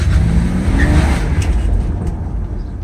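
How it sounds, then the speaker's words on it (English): A Mercedes SL600 with a repaired throttle body is floored from inside the cabin, its engine roaring loud and deep under hard acceleration, easing slightly toward the end. "I'm gonna floor it for a quick second"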